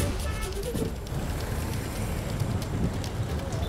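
Steady monsoon rain falls in Gujarat under an orange weather alert, a constant dense hiss with low rumbling wind noise on the microphone throughout, no voices.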